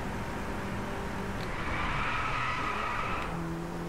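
A car drifting in the racing game Driveclub, with a loud, sustained tire skid screeching over the engine drone for a couple of seconds before easing off.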